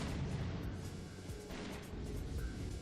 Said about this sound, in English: Now let's see, is it 2 or 3 missiles? It is 3.